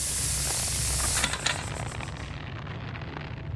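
A spray bottle hisses in The Baby in Yellow game, a loud steady blast of airy noise that tapers and fades to a softer hiss over a few seconds.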